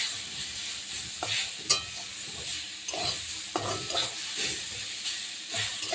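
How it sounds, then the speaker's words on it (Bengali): Snake gourd frying in a pan, soft close sizzling with repeated light scrapes and stirs of a spatula at an irregular pace, fairly quiet and free of talk. "আমি একটু নেড়ে চেড়ে একটু ভাজা ভাজা হবে, নামিয়ে নেব"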